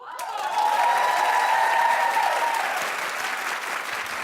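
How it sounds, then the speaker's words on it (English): A studio audience keeps up steady applause for Paula Abdul, broad and even, with a brief tonal sound near the start and the clapping tapering slightly toward the end. "keep clapping for Paula Abdul"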